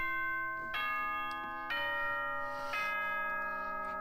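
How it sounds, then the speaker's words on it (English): School announcement chime from the video game Danganronpa: four ringing bell-like tones in a descending ding-dong pattern, each note lingering into the next, clear and alone. "Ding dong bing bong."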